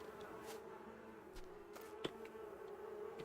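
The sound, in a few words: bees buzzing in the video game Harvet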